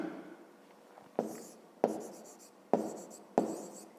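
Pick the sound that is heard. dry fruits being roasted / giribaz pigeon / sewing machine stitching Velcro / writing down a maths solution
writing down a maths solution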